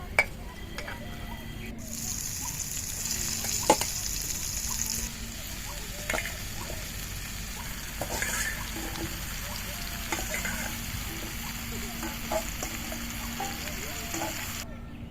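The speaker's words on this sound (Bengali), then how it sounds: "একটু ওই তেলের ভিতরে মাশরুমটা হালকা করে ভেজে নেবো" Button mushrooms frying lightly in oil in a kadai, a soft continuous sizzle with scattered crackles and occasional clinks of a spoon against the pan, fairly quiet and steady throughout.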